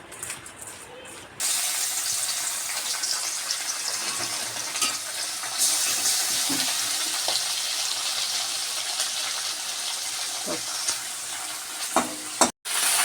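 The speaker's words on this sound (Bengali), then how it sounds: "মাছটাকে একটু ভেজে নেব হালকা করে।" Small morola fish sizzle steadily in hot oil in a wok, a loud continuous frying hiss with occasional spatters and stirring, close up and without talk.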